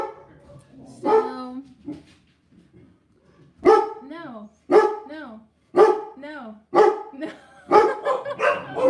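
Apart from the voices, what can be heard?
dog barking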